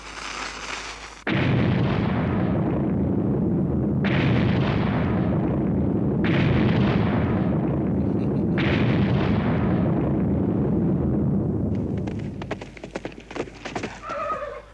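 Cartoon cannon fire shelling a farm, booming blasts in long rumbling bursts one after another, ending with scattered crackling pops.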